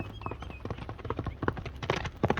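A horse ridden by a jockey gallops past with quick, irregular hoofbeats, a close, loud clip-clop in rapid bursts; the horse is unshod.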